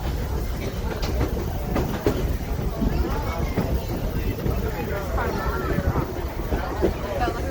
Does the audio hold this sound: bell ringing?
no